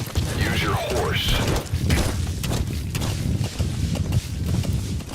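A horse's hooves clop steadily in a video game, a regular rhythmic beat of close hoofsteps running under a voice speaking, with a brief whooshing effect near the start.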